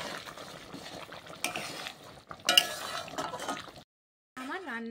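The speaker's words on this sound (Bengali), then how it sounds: "আর একটু নাড়িয়ে দিচ্ছি।" A spoon stirs burnt masala chicken curry with green chillies in a pan, making scraping bursts over a soft frying sizzle. A brief silence follows, then a short tonal sound.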